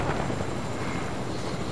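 Helicopter rotor noise in the Fortnite video game, a steady broadband whir and rumble filling the short stretch at constant loudness, with no talk over it.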